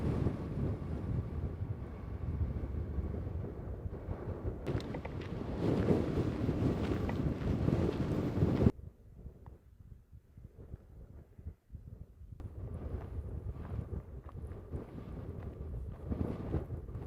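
Intense wind buffeting the microphone in the mountains of western Canada, a loud roaring gust that suddenly drops to a quieter rumble, then builds again, with no one talking.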